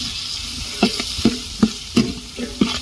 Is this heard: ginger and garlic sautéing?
yes